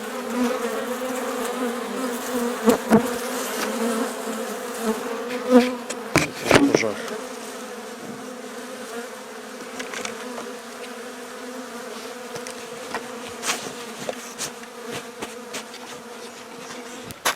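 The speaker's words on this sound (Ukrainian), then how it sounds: "Дивіться, як бджоли реагують на наші датчики температурні." A dense, steady hum of many honeybees buzzing close by in a winter hive, with a few sharper knocks and rustles early on, no voices.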